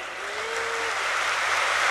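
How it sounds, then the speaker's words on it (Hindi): A gathering audience at a spiritual meeting claps more loudly, a continuous wash of applause that builds slightly over a couple of seconds. "और जोर से ताली बजाएंगे।"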